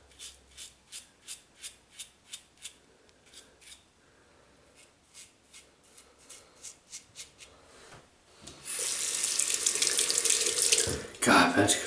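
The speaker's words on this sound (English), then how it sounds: "I think rinsing helps as well." A 1960 Gillette Fatboy razor rinsed under a running tap. A series of soft rhythmic clicks and taps comes first, then a steady rush of water with a louder splash near the end.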